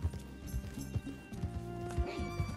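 A horse gallops in Red Dead Redemption 2, with rapid rhythmic hoof thuds repeating about every half second, close and prominent, with talk partly over the top.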